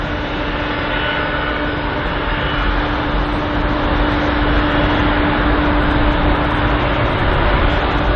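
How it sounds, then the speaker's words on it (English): A British Airways Boeing 777 departs Heathrow's runway 27 left, its jet engines giving a continuous broad roar from a distance that swells gradually over several seconds, with a steady low hum beneath and no talk. "Just in the distance there is the British Airways Boeing 777. Just on departure from runway 27 left."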